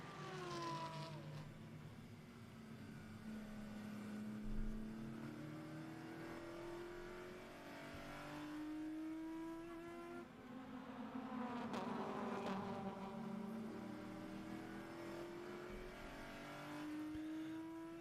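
A McLaren Artura race car engine at full throttle, heard from the in-car camera in a members' challenge race. It gives a continuous high buzzing roar, rising in pitch through repeated upshifts and dropping briefly at each gear change.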